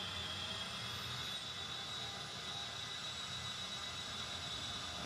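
Light aircraft engines spooling up to about 90% power before brake release for takeoff on runway 27: a steady, loud engine roar with a high whine, sustained throughout, no talk.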